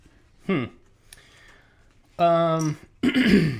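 Several separate bursts of a person clearing the throat, loud and close, the last two harsh and raspy, with quiet pauses between them and no talk.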